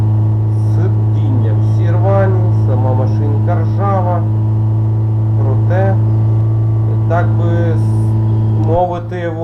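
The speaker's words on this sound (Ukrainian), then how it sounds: "Так що продовжуємо рух на першій передачі." Battered old car engine running in first gear, a steady loud low drone throughout with a person talking over it, the engine note dropping near the end.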